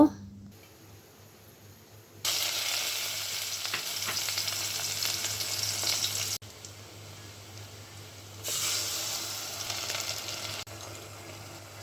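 Potatoes frying in hot oil in a pan give a loud, continuous sizzle that swells and eases in long stretches, with occasional stirring, close by and without talk.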